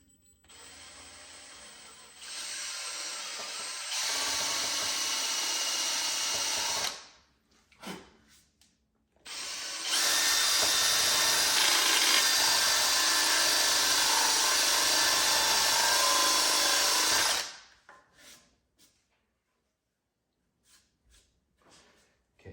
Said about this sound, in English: so I got a 3/8 inch spade bit or paddle bit